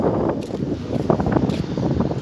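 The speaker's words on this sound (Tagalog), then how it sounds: "At napakalakas ng hangin." Strong wind roars during a sandstorm in Dubai, a continuous rough buffeting with gusty surges and microphone rumble, close and loud with no voices.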